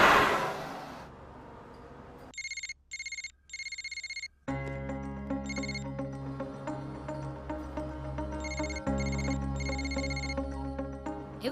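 A telephone ringing in a room, repeated electronic ring bursts with short gaps, then continuing under a denser background of music-like tones, fairly faint overall.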